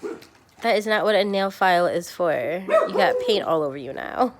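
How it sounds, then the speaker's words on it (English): A dog barks and yips in short, close bursts with some whimpering, the sounds overlapping with a person talking nearby during a gift unboxing at home. "Sorry about the dog."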